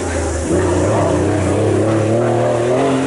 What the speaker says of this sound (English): So I'll watch some of the boys drift from up here.